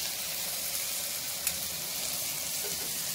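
Tomato and onion sautéing with salt in a pan for millet sambar rice, giving a steady, close sizzle and crackle throughout with one brief clink partway.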